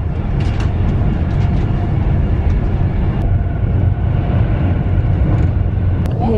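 Constant low rumble of a train at a London station, heavy and nearby, with occasional metallic clicks and squeals over the steady drone; no talking.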